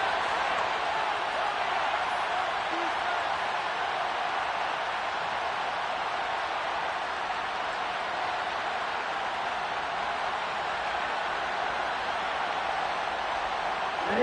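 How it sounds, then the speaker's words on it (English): A continuous wash of crowd noise from an American football video game hums on steadily, a broad distant roar from a packed stadium that holds at an even level throughout. "Listen to this crowd now."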